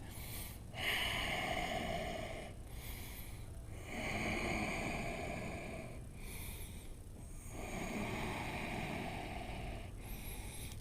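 Deep, steady breaths during a strong yoga flow with the elbows down in a lunge, long audible inhales and exhales rising and falling in a slow rhythm over about ten seconds, close and fairly loud with no talking.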